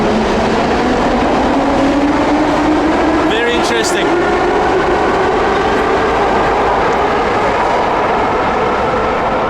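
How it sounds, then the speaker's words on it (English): Soviet-era Moscow metro train pulling into a station, a loud continuous rumble with a rising whine as it arrives, under someone speaking briefly. "Look at that metro coming."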